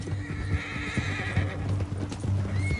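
A horse in Red Dead Redemption II clip-clops with close, rhythmic hoofbeats, and a neigh sounds partway through, mixed with faint background noise.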